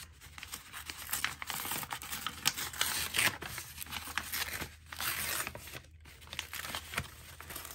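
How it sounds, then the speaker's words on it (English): A paper envelope is pulled and torn apart by hand at close range, with repeated ripping and crinkling bursts that come in uneven waves across the whole stretch. "take the envelope apart."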